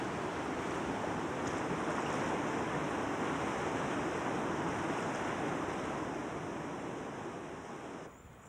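Strong current on the Omo River as a boat crosses it, a continuous rushing water roar mixed with wind buffeting, steady and fairly close before easing slightly near the end.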